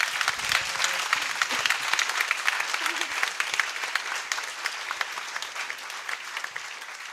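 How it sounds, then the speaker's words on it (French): A church congregation applauds a priest's silver jubilee, his 25 years of priesthood, at M'Brou. The dense, steady clapping runs evenly from start to finish at moderate volume. "Père Aonzi Nguessan Francis, qu'on peut applaudir pour lui dire merci"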